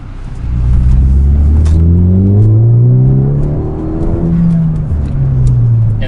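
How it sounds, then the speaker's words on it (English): A Ford Focus ST with an aftermarket catback exhaust revs up and down, a deep throaty rumble that rises and falls in pitch, loud and close with no voices. "It's a perfect street exhaust,"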